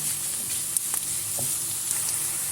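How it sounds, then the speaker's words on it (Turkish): Minced meat, about 250-300 grams, frying with onions and green peppers in a pan, giving a steady close hiss with a few faint clicks of stirring throughout. "250-300 gram kadar kıymamı da ilave ettikten sonra güzelce kavuruyorum yeniden."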